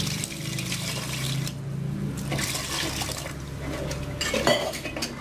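Water splashes and trickles steadily into a pot of Nagercoil-style fish curry, with light clinks of metal cookware throughout.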